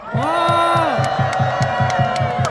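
A crowd at a candlelight rally cheers and shouts with a drawn-out, rising voice over steady rhythmic clapping or beats, loud and close throughout.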